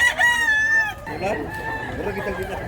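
A rooster crows loudly nearby among other chickens at a poultry market, followed by clucking and general market murmur, with voices faintly underneath.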